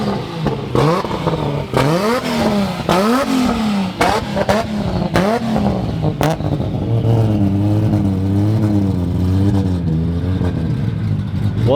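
A drag race car's engine in a staging lane at a GT-R festival in Australia, blipping sharply through repeated loud rev spikes, then settling into a lumpy, rumbling idle with wavering revs.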